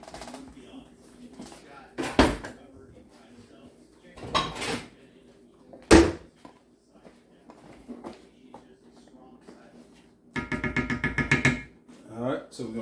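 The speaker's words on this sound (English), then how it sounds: "we're going to go ahead and get this top and cover it up" A lid goes onto a pot of simmering rice with a few separate metallic clanks and knocks. A brief rattle follows near the end, close and clear, with quiet pauses between the sounds.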